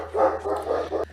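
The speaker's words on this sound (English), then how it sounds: "then the dog runs out of the room barking" A dog barking in a room, a short run of two or three close, muffled woofs packed into about a second.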